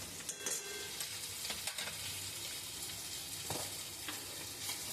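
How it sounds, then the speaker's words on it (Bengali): Spice masala with dry chilli powder and sugar frying and being stirred in a pan for a parshe fish dish: a quiet, steady sizzle broken by intermittent scraping strokes, with no voices. "দিয়ে আমি তখন নাড়াচাড়া করি, করে মশলাটা একটু ভালো করে ভেজে নিই।"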